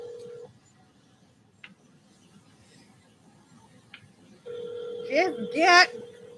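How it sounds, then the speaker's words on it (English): A phone call being dialed: steady electronic tones and a couple of short clicks, then a louder held tone with warbling ring-like bursts near the end, with faint background noise throughout. "I'm going to call her phone."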